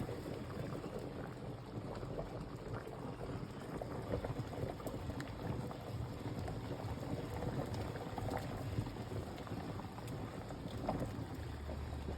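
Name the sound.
water boiling in a pot with pierogi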